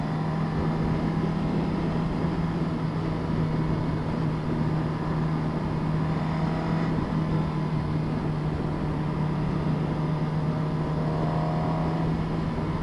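A stock 2015 Suzuki GSX-R1000 engine drones steadily with a low hum and rough intake noise throughout, constant and close, with no clear rises in revs.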